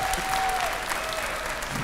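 A studio audience at a family TV show claps continuously, a dense, even wash of applause at moderate loudness with a faint tone running underneath and no talk over it.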